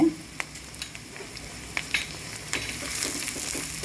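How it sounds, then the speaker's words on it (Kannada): Mixed vegetables for veg Hakka noodles stir-fry in a hot pan, a steady close sizzle with a few scrapes and clinks of stirring, the hiss swelling louder toward the end. "ಈಗ ಇದು ಸ್ವಲ್ಪ ಚೆನ್ನಾಗಿ ಈ ರೀತಿ ಎಲ್ಲ ವೆಜಿಟೇಬಲ್ಸ್ ಎಲ್ಲ ಫ್ರೈ ಆಗಬೇಕು"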